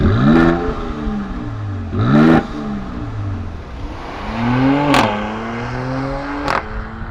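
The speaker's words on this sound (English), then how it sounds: "since we're looking at the exhaust, we might as well talk about it. So let's have a listen." A 2020 Mercedes-AMG GLC 43 SUV revs rising and falling through several sweeps, with sharp crackling spikes from the exhaust between throttle blips, loud and close.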